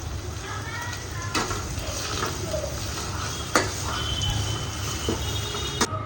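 Onions frying in a steel kadai for a brinjal and dried fish pulusu curry, a soft steady sizzle with a few sharp clinks and stirring knocks, close and fairly quiet.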